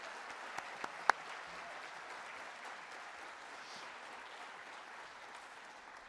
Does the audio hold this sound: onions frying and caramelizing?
no